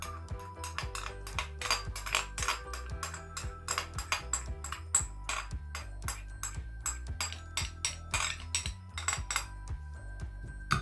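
A spoon clinks and scrapes repeatedly against a bowl while hot sauce is stirred into mayonnaise, producing a quick, irregular run of close metallic taps and rings with no talking.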